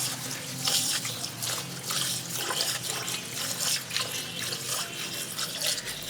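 Tap water running steadily into a sink while three cups of rice are washed for chicken tehari pulao, a continuous close splashing stream with faint sloshing and no talking.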